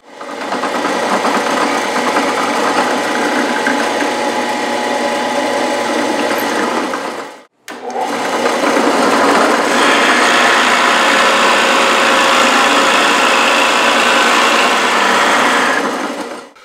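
A power drill boring holes through wooden side supports for a dining table, heard as a loud, steady high-pitched whine that runs for several seconds, cuts out briefly, then starts again and holds.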